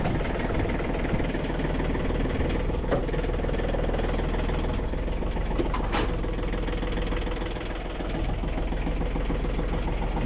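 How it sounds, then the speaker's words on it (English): A John Deere 3520 compact tractor engine idles with a steady, close, loud mechanical chug and rattle, running alone without talk. "John Deere 3520 itty bitty tractor"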